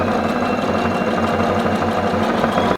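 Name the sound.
sewing machine stitching tote bag fabric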